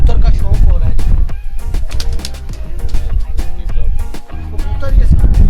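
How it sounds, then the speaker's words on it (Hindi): Pigeons of an old kaali breed coo in a netted loft, a close, loud cluster of throaty coos and wing sounds overlapping with someone talking throughout. "यूनियन पर आप ये कबूतर देख रहे हैं।"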